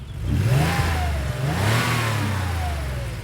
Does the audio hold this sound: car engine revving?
yes